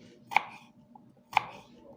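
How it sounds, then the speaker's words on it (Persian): Two sharp knife chops, about a second apart, cutting vegetables into rings on a board for frying, heard close over a low background murmur. "اینا رو اینجوری حلقه میکنیم، خورد میکنیم"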